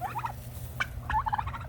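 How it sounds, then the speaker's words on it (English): A turkey gobbles outdoors on a winter homestead: two rapid warbling bursts separated by a short call, fairly close and clear against low background rumble, with no speech. "I came in here and I saw a turkey looking over"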